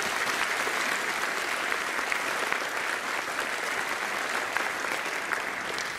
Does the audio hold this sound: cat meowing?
no